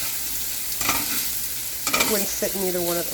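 Bacon frying in two cast iron pans, a steady crackling sizzle running throughout with stirring scrapes, while a person speaks briefly near the end.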